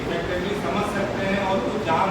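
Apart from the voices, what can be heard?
None of the usual background noises is heard.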